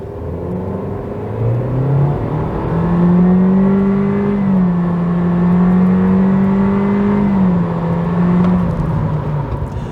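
A 2022 Honda Civic Hatchback Sport engine revs up and pulls hard, its droning tone rising steadily, then holding and shifting as the car accelerates, heard from inside.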